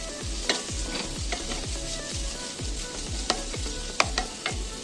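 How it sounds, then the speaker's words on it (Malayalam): Onions and green chillies sizzle steadily in a pan while a utensil stirs them, scraping and tapping in a regular rhythm, close and quiet, with no talk. "നന്നായി വഴഞ്ഞു വരുന്നവരെ നമുക്കൊന്ന് ഇളക്കി കൊടുക്കാം"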